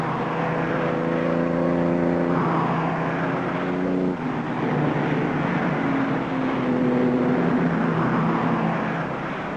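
Race cars at the 1955 Le Mans 24 Hours, a Jaguar pursuing a Ferrari, pass with loud droning engine tones that rise and fall over a continuous roar. The tones overlap as several cars go by in close succession. No one speaks.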